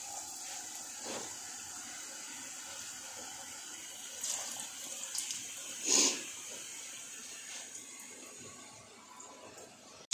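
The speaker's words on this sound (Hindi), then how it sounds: "अभी इनको ऐसे थोड़े थोड़े से फ्राई करके उसको निकाल के रख देंगे" Lotus stem pakoras coated in gram flour batter fry in hot oil, a faint, steady sizzling hiss with a few soft clinks and splashes, one sharper burst about midway.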